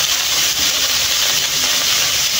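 Pork browns in a hot frying pan, giving a steady, loud, even sizzle with a bright hiss. It runs continuously with no break and no voice over it.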